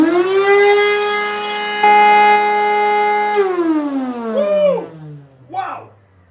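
A vacuum cleaner with a faulty motor whines loudly in a strong, steady pitched tone that then slides downward as it winds down, followed by a few short wavering sounds.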